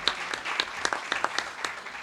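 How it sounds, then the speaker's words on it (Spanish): A conference audience gives a brief round of applause, with scattered individual claps rather than a full ovation, moderately faint and short. "así que también un aplauso para ustedes"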